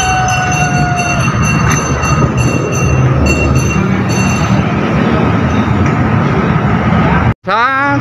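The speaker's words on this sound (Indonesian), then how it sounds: "kebetulan ada kereta api ya masuk yang mengarah ke Bogor dari Sukabumi" A train running from Sukabumi towards Bogor rumbles past close by, a steady heavy roar with rhythmic clatter, before a brief dropout and a rising electronic whine at the end.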